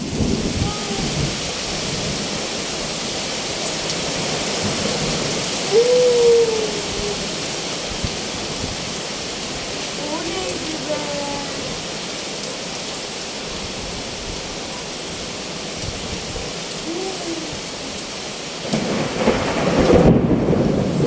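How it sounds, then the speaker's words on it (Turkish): Heavy rain mixed with hail pours onto a balcony in Denizli, a loud continuous roar with scattered sharper impacts and a few brief voices near the end. "Hem yağmur hem dolu."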